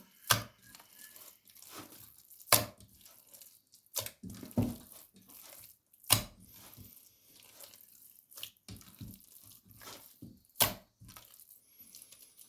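Minced meat mixture for meatballs is beaten against a bowl in a home kitchen, giving repeated sharp slapping thuds at irregular intervals with quieter wet handling between them.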